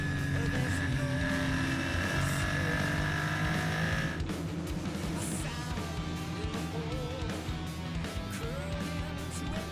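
Super Formula Lights single-seater race cars circling Suzuka, a dense layered engine roar with whining high revs that stays loud throughout, shifting in pitch partway as cars pass, with faint commentary underneath.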